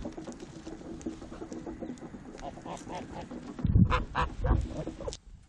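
Geese chase goats off their patch on a farm, honking and squawking in a rapid, chattering series with hens clucking nearby, growing louder and more agitated toward the end before cutting off.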